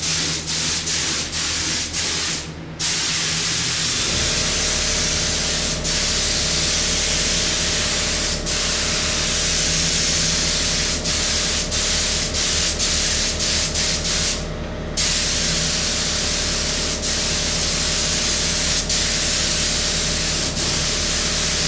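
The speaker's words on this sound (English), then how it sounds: "And 2 coats of the white. So now I can spray the rest of the truck." Spray gun laying white paint onto a K5 Blazer truck: a loud, steady close-up hiss running almost the whole time, broken by two brief pauses in the trigger, with a low hum beneath.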